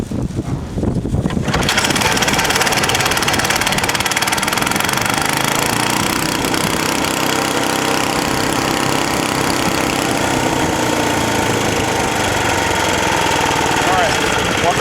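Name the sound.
WW Chippewa wood chipper engine starting and running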